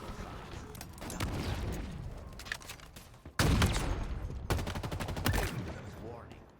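Rapid assault rifle fire in Halo Infinite, dense overlapping bursts, loud and close with a louder volley midway, under intermittent talk.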